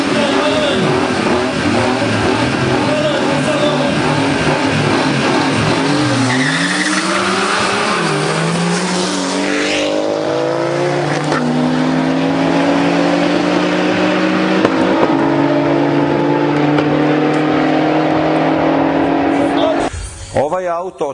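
Turbocharged race car in class 12 at a street race, engine revving and droning loudly with shifting pitch and a brief tire squeal, heard under someone talking throughout.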